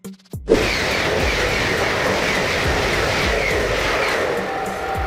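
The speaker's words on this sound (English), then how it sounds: "A streamlined train designed for very high speeds" A high-speed train rushing past: after a brief quiet moment a loud, sudden onset swells into a sustained, dense roar of wheels and air that holds steady at close range, with no talking.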